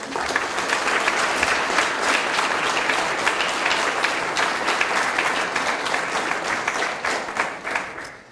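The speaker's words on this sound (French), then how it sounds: "on peut les applaudir très fort" Steady, dense applause from a large audience at a town New Year's address in Pineuilh, loud and sustained throughout before tapering slightly at the end, with no talk over it.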